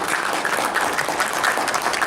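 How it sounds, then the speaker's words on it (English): A crowd applauds in a lively, continuous patter for a guest being introduced, steady and moderately close with no break. "A round of applause."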